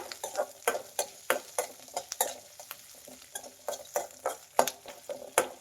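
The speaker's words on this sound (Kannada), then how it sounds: "ಇವೆರಡು ಈಗ ಸ್ವಲ್ಪ ಫ್ರೈ ಮಾಡಬೇಕು. ಸೀಸಕ್ಕೆ ಹೋಗಬಾರ್ದು, ಮೀಡಿಯಂ ಫ್ಲೇಮಲ್ಲೇ ಫ್ರೈ ಮಾಡಬೇಕು." Onions and garlic frying over a medium flame for an egg and lima bean sambar, a soft continuous sizzle with frequent quick utensil scrapes and taps on the pan, close and fairly quiet, no speech.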